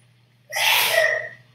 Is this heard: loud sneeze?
yes